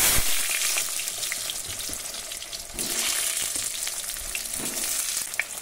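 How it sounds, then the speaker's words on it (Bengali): Cut potatoes fry in hot oil, giving a steady, close sizzle with soft crackles and occasional stirring that rises again midway through. "কেটে রাখা আলুগুনা ভেজে নেব।"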